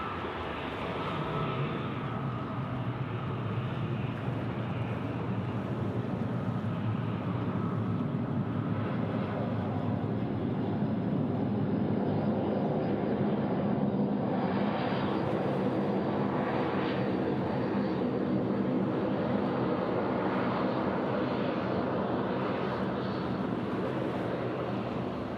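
Singapore Airlines airliner taking off at Sydney Airport, a steady, loud jet engine roar that holds evenly for the whole stretch with a broad rumble and faint higher whine, no voices over it.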